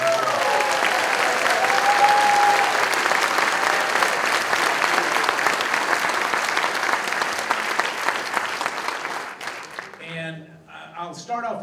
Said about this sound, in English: Would y'all give them a round of applause?